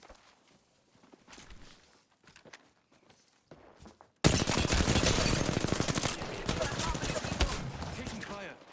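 Rapid video game gunfire bursting in halfway through, loud dense crackling shots with a fast rhythm following sparse quieter footsteps and movement.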